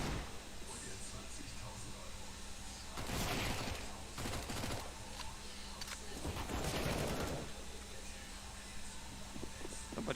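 Bursts of Mac 10 submachine gun fire in Counter-Strike rattle out in two rapid volleys, faint and low in level, with a commentator's voice present.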